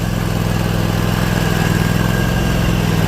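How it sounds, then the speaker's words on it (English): A handheld Atlas electric leaf blower runs steadily outdoors during lawn care, a continuous droning whir with a constant hum and no breaks, moderately loud and heard alone. "She really likes that Atlas electric handheld blower."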